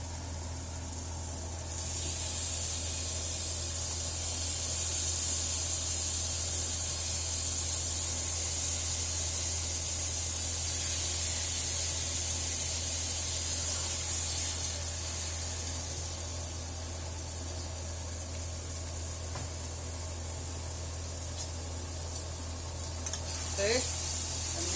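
Marinated mutton for a Goan-Punjabi curry sizzles loudly and steadily in hot oil as it is stir-fried, a continuous close hiss with occasional faint stirring knocks.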